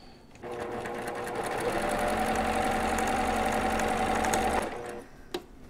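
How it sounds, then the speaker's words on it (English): A sewing machine runs a quarter inch seam across quilt strips, a continuous close mechanical whir with a rapid needle rhythm for about four seconds before stopping, followed by a small click. "You're going to take the first strip and the second strip and sew a quarter inch seam across"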